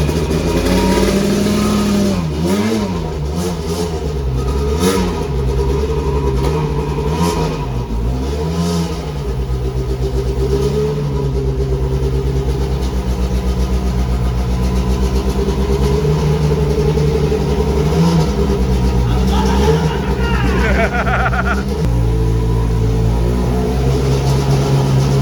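Lancia 037 Stradale Group B rally car engine revving hard and repeatedly, rising and falling in loud close blips over a steady idle for an extended stretch, with no talking.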